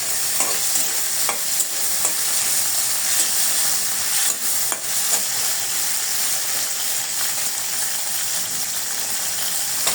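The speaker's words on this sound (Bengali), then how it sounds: "শুটকিটা লাল লাল হয়ে গেলে এর মধ্যে সাথে আমি মরিচটাও ভেজে নেব এবং রসুনটাও ভেজে নেব।" Dried fish fried in hot oil with chilli and garlic, sizzling loudly and steadily throughout, with occasional scraping stirs.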